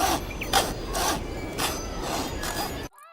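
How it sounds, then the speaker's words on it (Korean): A saw cuts through a wooden drawer to widen a small hole in an animated short film, with about six steady, rasping back-and-forth strokes. The sawing is close, then cuts off into silence at the end. "그리고 더 큰 구멍을 만들기 위해 톱질을 시작했죠"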